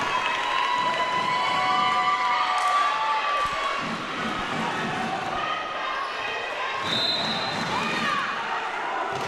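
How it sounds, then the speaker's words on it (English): A high school volleyball crowd cheers and claps in a busy gym after a block, sustained noise with shoe squeaks and scattered shouts, while a commentator talks over it. "Crowd alive and well."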